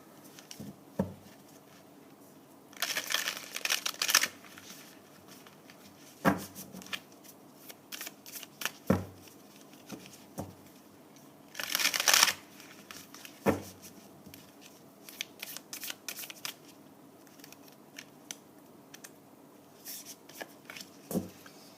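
Tarot cards being handled and shuffled, with repeated dry riffling bursts and softer slides and taps, fairly close with no talking.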